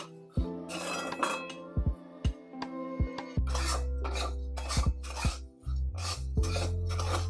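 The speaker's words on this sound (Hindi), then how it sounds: "अब इसे लगातार चलाते रहें" Roasted vermicelli (seviyan) is stirred in a pan on a medium flame with repeated sharp metallic clinks and scrapes of the spoon against the pan, coming in quick irregular bursts that are close and clear.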